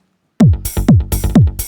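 A deep, booming synth bass note in Ableton struck four times in a steady rhythm, each hit sliding down in pitch and smearing into a washy tail from a long release, with bright noisy hits between.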